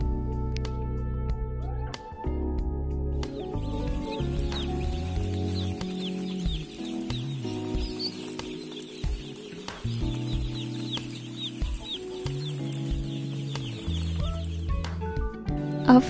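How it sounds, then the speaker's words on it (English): One-day-old broiler chicks in a warmed coop on an Indonesian poultry farm give a steady chorus of high peeping over a low rumbling background hum, continuous and dense throughout. "And this is chicks for 1 day old."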